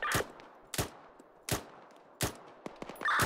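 Gunfire in the military video game ARMA 3, set in Afghanistan: four sharp, loud shots spaced well apart, followed by a quick burst of smaller cracks.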